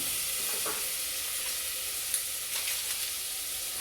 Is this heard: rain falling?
no